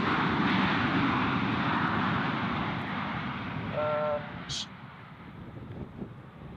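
An airliner arriving from Birmingham lands at Fuerteventura Airport: a loud, broad roar of jet engines that gradually fades as the plane passes, with a brief tone and wind buffeting near the end, and people talking under it.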